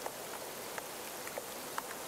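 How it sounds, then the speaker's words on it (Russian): Rain falls on a rainy town in the video game Creepy Tale 2, a steady soft hiss with scattered light drip taps, and nobody speaks. "Какой-то дождливый городок."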